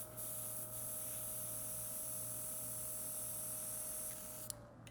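An AIRTEX airbrush gun from a gel system sprays out with a steady, close hiss that runs unbroken for several seconds before cutting off, with no voices over it.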